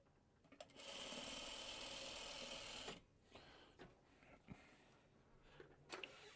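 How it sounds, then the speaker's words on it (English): A home sewing machine runs a quilting seam off onto a small ender scrap, a quiet steady whir for a couple of seconds, then stops and gives way to soft handling clicks and rustles. "Sewing off on a little ender here."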